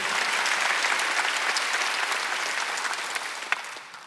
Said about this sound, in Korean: 박수 하나 더 드리세요